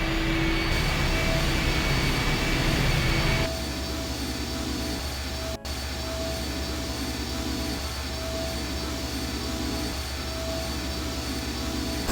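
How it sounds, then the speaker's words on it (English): A jet-like engine spins up with a steady, loud whine and roar that shifts to a lower, even drone partway through, with one sharp click near the middle. "The engine's starting up again."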